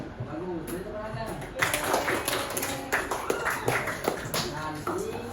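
A classroom full of students claps together, a steady patter of many hands rising and continuing for several seconds over murmured voices.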